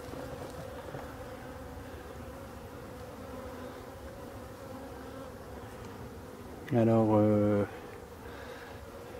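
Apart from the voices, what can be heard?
black forest bees buzzing around hive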